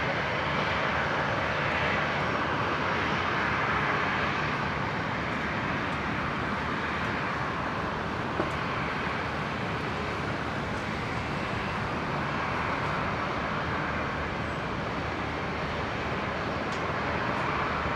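A USAF C-17 military transport takes off at Brisbane International Airport, its engines a steady, powerful roar that holds loud and broadband with no voices over it.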